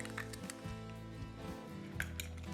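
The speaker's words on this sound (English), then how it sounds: "I'm going to crack in an egg" An egg is cracked into a bowl for Swedish meatball mixture, giving a few brief clinks and taps against the dish with a soft wet squish, close and clear with no talking.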